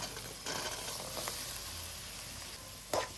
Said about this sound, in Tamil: இப்போ ரெண்டையும் சேர்த்து கொஞ்சம் நல்லா வதக்கிக்கலாங்க